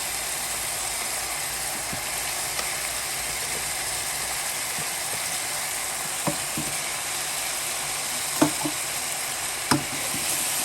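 Boiled beef ribs hiss and crackle steadily as tongs lay them into a hot pan on a stovetop, with a continuous broadband sizzle and a few sharp clicks and pops from the tongs.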